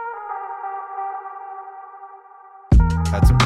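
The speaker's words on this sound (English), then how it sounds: "Got this organ sound." Sustained sampled organ chord in an Ableton hip hop beat, droning steadily alone before drums and other layers punch in loudly near the end.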